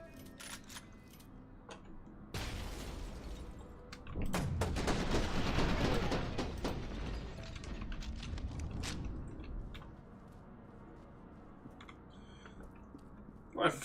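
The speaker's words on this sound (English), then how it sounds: "Rifle feels nice, though." Rifle gunfire in the shooter game F.E.A.R. 2, with bursts of dense rapid shots and loud impacts rising over several seconds, then fading into quieter ambience and scattered clicks.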